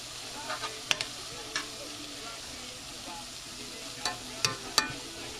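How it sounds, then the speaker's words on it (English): Garlic sautéing in a pan for a homemade tomatillo salsa, a steady soft sizzle with a few sharp clicks of a utensil stirring against the pan, close and fairly quiet. "You want to make sure you don't burn this garlic though, very important. I'll saute that up a little bit."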